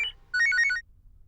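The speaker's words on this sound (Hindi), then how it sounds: "एक फोन आने वाला है" A short electronic phone ring, a quick warbling burst of high tones lasting under a second, clear and close.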